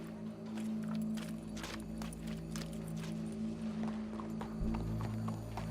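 Horse hooves clip-clop steadily in Red Dead Redemption 2, a run of sharp, fairly close strikes over a constant low hum, with no talk.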